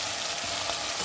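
Yogurt added to a hot pan while making egg biryani, a dense, loud, continuous sizzle throughout the short moment.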